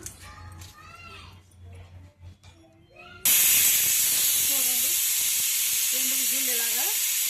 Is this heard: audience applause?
no